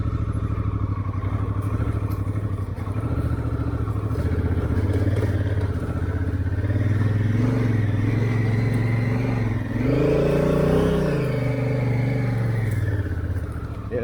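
Motorcycle ridden straight down a rocky slope on a Pilbara trip, engine droning loud and close throughout with a rev swell near the end.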